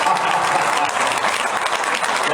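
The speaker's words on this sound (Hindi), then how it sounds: "खूब ताली बजा रहे हैं" Sustained applause from the audience at a Hindi Diwas kavi sammelan poetry recital, a steady dense patter of many hands filling the hall at even loudness.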